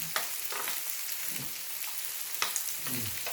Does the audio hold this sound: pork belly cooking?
yes